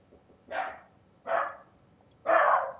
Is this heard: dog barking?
yes